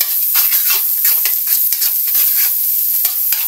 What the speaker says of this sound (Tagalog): Pabayaan muna natin matoast ng konti yung ating bawang.